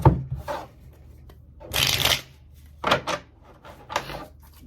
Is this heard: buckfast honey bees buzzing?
no